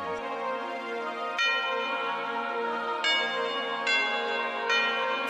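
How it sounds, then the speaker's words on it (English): Bell tones in a New York drill beat, bright metallic strikes ringing out every second or so over a sustained synthetic pad, with no voices. "So just add kettlebells and the bells over here."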